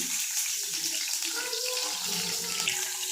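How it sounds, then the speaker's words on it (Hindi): Eggplant pieces fry in hot oil in a pan, giving off a continuous, close sizzling hiss with faint crackles throughout, and no voices. "वन बाय वन करके हम इसमें बैंगन फ्राई कर रहे हैं।"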